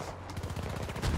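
Gunfire in Battlefield 2042, a rapid burst of automatic shots at even rhythm, moderately loud, ending in a heavier thump.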